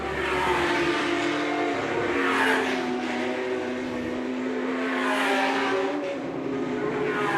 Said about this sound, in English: Simon Hadfield coming through to complete his 35th lap in the car